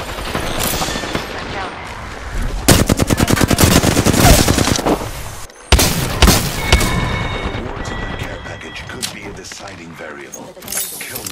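Gunfire in the Apex Legends video game: loud rapid automatic bursts and heavy single shots in close succession, with in-game character voices speaking over the action.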